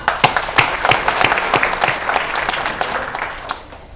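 A crowd at a public address gives a burst of hand clapping, dense and close at first with sharp individual claps, then gradually thinning and fading.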